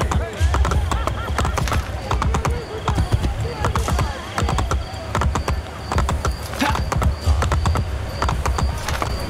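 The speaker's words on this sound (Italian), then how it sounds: "Cavallo." In the video game Assassin's Creed Brotherhood, a horse gallops with rapid, steady hoofbeats that are loud and continuous throughout, mixed with faint mechanical game noises.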